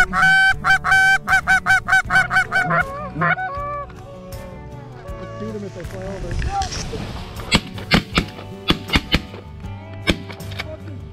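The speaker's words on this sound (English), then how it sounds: "Ooh, big geese, big geese." Geese honk loudly in a rapid rhythmic series of calls over a freshly cut corn field, close at first and then fading, followed by later sharp bursts. People talk between the calls.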